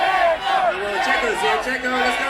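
An excited crowd at the Formula One Las Vegas launch party near the Bellagio fountains shouts and cheers close by as a driver pushes through, with overlapping voices calling out loudly and continuously.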